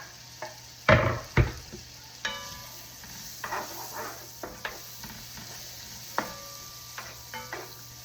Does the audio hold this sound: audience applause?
no